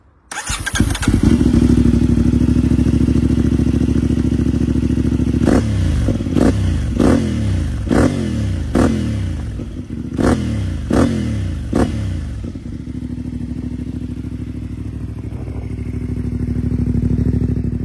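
A CFMoto 450MT adventure motorcycle with a tuned exhaust starts up and settles into a close, throbbing idle, then is blipped through about eight sharp, quick revs before dropping back to a steady idle.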